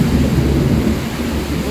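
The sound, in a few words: heavy rain and thunder during typhoon Opong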